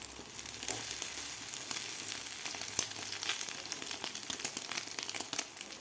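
An egg Maggi paratha fries in a pan, giving a continuous soft sizzle with faint crackles throughout and no talking.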